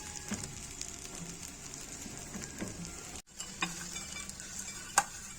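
Bread cubes toasting in oil in a frying pan for Egyptian fatta make a quiet, steady sizzle, broken by occasional light scrapes and clinks of stirring and a brief cut in the sound.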